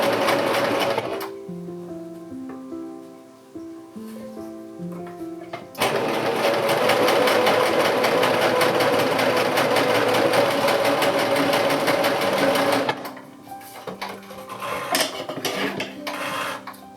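A sewing machine stitches a fabric face mask seam, starting with short bursts, then a loud continuous run of about seven seconds, then stopping into quieter handling sounds; close and alone, with no talking.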